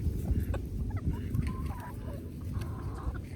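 A chicken clucks and calls a few times nearby, short throaty bursts over a low rumbling background.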